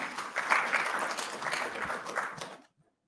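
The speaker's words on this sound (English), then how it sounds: "give him one last round of applause" An audience at a talk breaks into steady applause, many hands clapping at once for about two and a half seconds before it cuts off abruptly.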